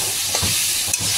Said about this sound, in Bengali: চিংড়ি মাছটা এখানে ভেজে নিই